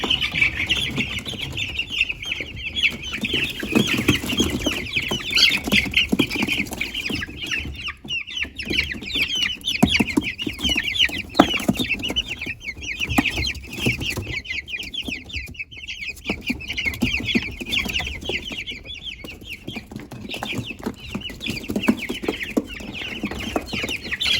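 Young Australorp chicks kept in a village coop, a continuous dense chorus of high chirps and peeps from many birds close by, with shuffling movement and no talking.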